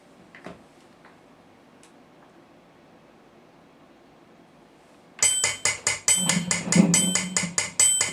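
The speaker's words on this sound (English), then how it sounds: "let's put the drum machine on" Near silence at first, then from about five seconds a drum machine's steady, fast tick pattern at 280 BPM kicks in, crisp and loud, pulsing evenly to the end.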